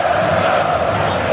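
Vasco fans in a packed Maracanã crowd chant and roar in a sustained, steady wall of voices heard at a distance during a 1998 Brazilian league football match against Flamengo.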